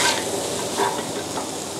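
Fish filling for steamed buns stir-fried in a pan, a steady close sizzle with scraping stirs, with no talk over it.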